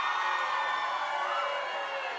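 A packed wrestling arena crowd roars steadily throughout, a dense, sustained wall of cheering and shouting at a fairly constant level with no clear breaks.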